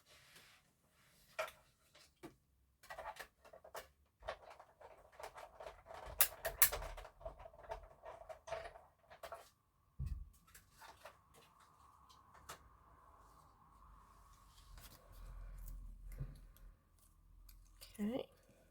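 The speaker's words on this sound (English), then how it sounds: "Now I'm going to die cut it another couple of times just to stack." A die cutting machine cuts a paper card, with scattered close clicks, taps and handling sounds followed by a low grinding run as the plates pass through, while a person talks quietly.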